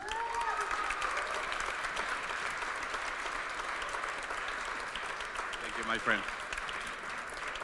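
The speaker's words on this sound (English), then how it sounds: "Big applause to Jonas." A Q&A audience at a Toy Story 4 event applauds steadily and evenly throughout, with a brief spoken phrase rising over the clapping near the end.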